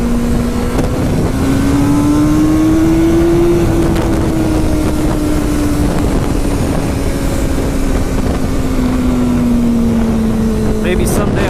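A Ducati 1199 Panigale S motorcycle engine holds a steady, loud drone throughout a countryside ride near Lancaster, Pennsylvania, its pitch rising gently and then sagging, with wind buffeting the microphone.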